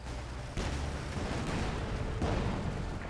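Rumbling gunfire and explosions from a Puma armoured car and other units in the video game Company of Heroes 2, a dense continuous battle din with a couple of heavier bursts.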